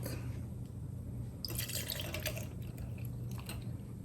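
Almond milk poured into a cup while making a protein drink, a short close liquid splash and trickle lasting a couple of seconds over faint background hum, no talking.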